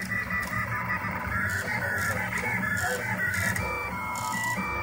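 A Rostock MAX 3D printer prints a Minecraft creeper figure at fine resolution, giving a steady, close whirring hum with rhythmic stepper-motor tones that rise and shift continuously without pause.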